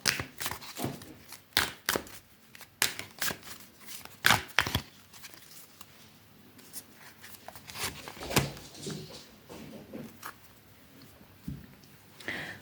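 Tarot cards are shuffled, flipped and slapped down in a rapid series of crisp snaps and papery rustles, close and fairly loud.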